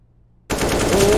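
Automatic rifle spray in Counter-Strike on the Mirage map, a sudden burst of rapid, loud, continuous gunfire starting after a brief silence and running unbroken to the end.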